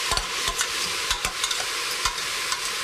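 Soup cooks in a pot in a farmhouse kitchen, giving a continuous, close bubbling sizzle broken by regular soft knocks and scrapes of stirring, with no voices.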